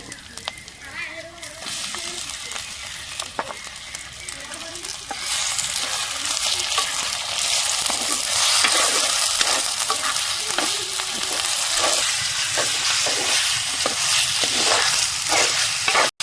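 Goat mutton frying in a clay kadai over onion, garlic and ginger, with a steady loud sizzle that swells after a few seconds and repeated scraping stir clicks throughout.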